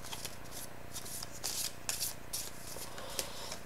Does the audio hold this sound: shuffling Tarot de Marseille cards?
yes